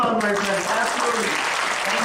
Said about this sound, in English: One other round of applause, my friends.